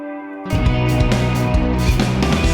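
After a brief quiet moment, an electric guitar part bursts in loud, with reverb on the left channel, in a cover, sustaining full and washy with no voices.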